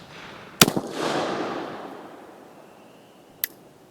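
An Uberti 1847 Walker black powder revolver loaded with heavy Dragoon bullets fires one loud sharp shot outdoors that rolls away in a long echo, followed about three seconds later by a fainter second crack.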